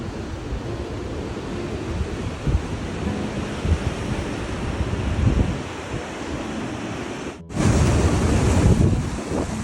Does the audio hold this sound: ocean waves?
yes